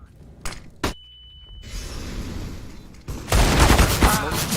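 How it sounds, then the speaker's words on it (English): A flashbang grenade bursts in a Counter-Strike: Global Offensive match, a sharp crack followed by a loud, sustained ringing blast of noise that fills the last second and a half. "Flashbang."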